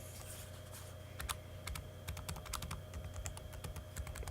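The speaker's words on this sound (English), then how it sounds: "the up key has a really annoying sound to it" Keys click on a Framework 13 AMD 7040 laptop, including its up key, with a quick, irregular run of sharp, close taps.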